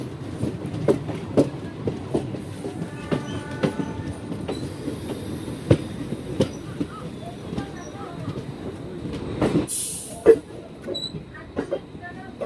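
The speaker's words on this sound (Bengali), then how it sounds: "আমাদের ট্রেন ধীরে ধীরে কার্ভ নিচ্ছে" Siliguri–Haldibari DEMU passenger train taking a curve, heard from on board: continuous rumbling with rhythmic clickety-clack of wheels over rail joints and occasional squeals, a voice briefly audible underneath.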